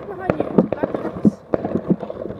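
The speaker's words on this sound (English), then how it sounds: "Right, it's fireworks." Fireworks exploding during an outdoor display near a Land Rover, a rapid run of sharp cracks and pops close by, mixed in with excited voices talking over them.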